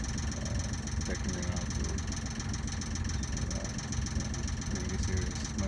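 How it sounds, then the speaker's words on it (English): A boat or car engine idles steadily at low speed while warming up, a constant mid-pitched rumble with vibration running throughout, with a voice speaking briefly over it. "I just bring it down to idle speed and let it warm up"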